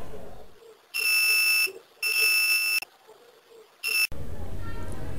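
Analog multimeter on a diode check during mobile phone repair, giving three loud steady electronic beeps, two long and one short, with pauses between and a noisy rustle at the end.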